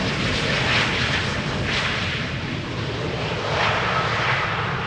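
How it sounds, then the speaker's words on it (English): KLM flight 1056, an airliner at Schiphol Airport, roars steadily and loudly throughout, its broad jet rumble swelling and easing slightly as it passes, with no voices over it. "KLM flight 1056"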